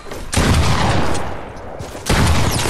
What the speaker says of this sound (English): I have to use my close-up sniper for this.